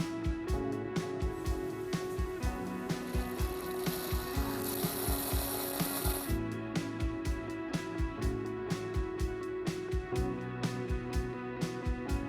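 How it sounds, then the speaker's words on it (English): Scratching and scraping on the pins of a fuel injector plug in a 1.9 TDI PD diesel engine, a run of short, rapid, repeated strokes up close, steady and fairly loud throughout with no talk. "Then scratch off rest of the dirt from pins."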